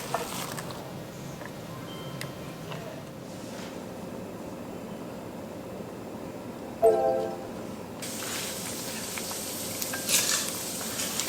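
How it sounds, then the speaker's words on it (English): Hot oil sizzles steadily around a custard cream Korean doughnut frying until golden, a continuous close hiss with a brief clatter partway through and the sizzle brightening toward the end. "Fry it until it's golden brown on each side."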